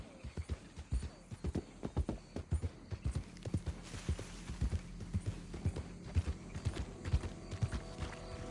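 Horse hooves clip-clop steadily at a walking pace in the Western video game Red Dead Redemption 2, close and fairly loud, with occasional faint voices and ambient noise underneath.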